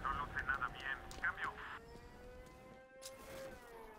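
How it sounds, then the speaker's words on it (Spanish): Inside the Batman: Arkham Knight game, a siren wails in long steady rising tones. Electronic music and effects play over it, and the sound holds at moderate loudness for the whole stretch. "ya comienzo a escuchar la sirena"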